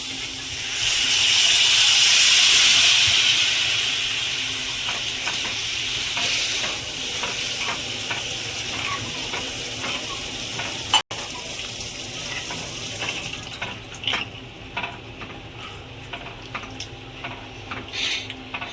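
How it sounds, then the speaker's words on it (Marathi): Water is poured into a pan of fried masala while cooking a field bean (val) vegetable dish, giving a loud rushing splash and sizzle at first that settles into quieter bubbling and stirring clinks. "आता आपण याच्यामध्ये पाणी टाकायचं आहे"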